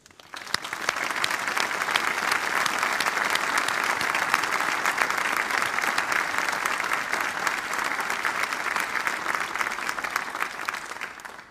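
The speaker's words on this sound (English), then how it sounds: "Ladies and gentlemen, please join me in a round of applause for them" A crowd at a formal portrait unveiling claps steadily and loudly for over eleven seconds, a dense, even ovation that starts abruptly and holds without letup.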